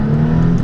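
A Maserati MC20 accelerating in sport mode on a wet road, its turbocharged engine giving a steady, loud droning hum with a strong low tone throughout the brief moment.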